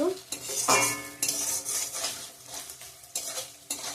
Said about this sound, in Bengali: ডালটা দিয়ে দেবো ডালটা ভেজে নিচ্ছি